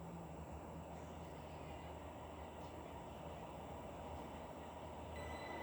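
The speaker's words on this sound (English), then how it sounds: "The train now approaching platform 5 does not stop here." A train in a railway video game rolls through a station platform without stopping, a steady faint rumble of wheels and carriages with no talk.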